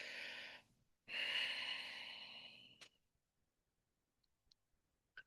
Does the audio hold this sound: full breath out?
yes